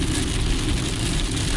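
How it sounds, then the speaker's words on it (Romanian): Rain drums steadily on a car driving through Sharm El Sheikh, a loud, even hiss of drops on the roof and windshield mixed with low road rumble, with no voices. "Nu s-a mai întâmplat să plouă aici în Sharm El Sheikh"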